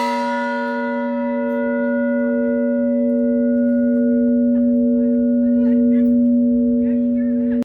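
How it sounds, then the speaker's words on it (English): A single loud strike of a large bell at an RV resort on the Mississippi River in Vidalia, Louisiana, its deep tone ringing on and slowly sustaining for several seconds. "you could ring the big bell. Like it's a loud bell."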